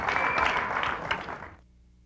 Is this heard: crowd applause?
yes